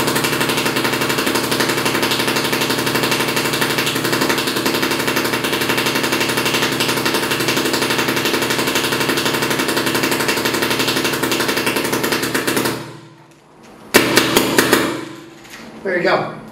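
A Proto PM8 paintball gun fires a long, loud, continuous stream of rapid shots. The rattling fire stops abruptly, then a few separate pops and clatter follow.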